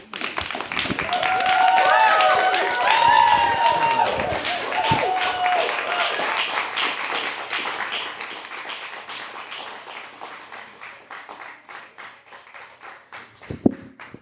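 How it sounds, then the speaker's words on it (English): Audience applause follows a performance of spoken-word or rap verse, starting dense and loud then thinning into scattered claps that taper off over about fourteen seconds, with a sharp single clap near the end. "Give him a round of applause, man."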